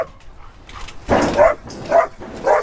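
A large dog barks close by in three or four loud, spaced bursts, each a deep woof with some whining between.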